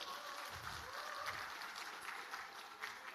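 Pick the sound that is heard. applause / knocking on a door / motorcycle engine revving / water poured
applause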